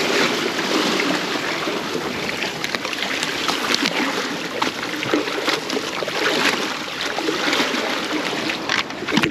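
Water splashing and trickling at a jetty as a cloth fish bag is dipped and soaked, a steady broadband wash with small splashes throughout, fairly close and with no talk.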